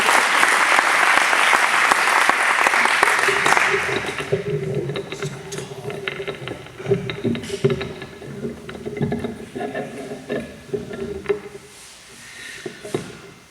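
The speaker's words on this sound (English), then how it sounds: "Let's give him a warm round of applause." Warm audience applause for Gabe Zacchai swells loudly for about four seconds and then thins out, giving way to shuffling, bumps and handling noises at a quieter level.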